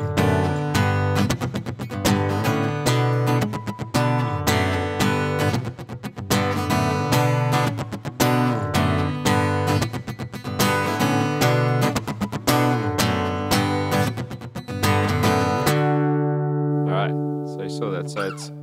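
Acoustic guitar playing a worship song, a strummed turnaround leading into the third verse, with steady rhythmic chords at close range that end on a sustained ringing chord, with no voice.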